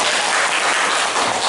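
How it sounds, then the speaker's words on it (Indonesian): A classroom of students claps for a classmate who answered correctly, a short burst of close, loud, dense clapping that runs evenly from start to finish. "Tepuk tangan untuk temannya."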